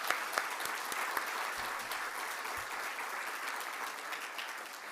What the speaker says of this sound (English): A round of applause for each one of them.